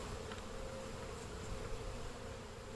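Saskatraz honey bees buzz steadily at the hive in spring, a dense, even drone with a faint tonal hum running under it and no voices.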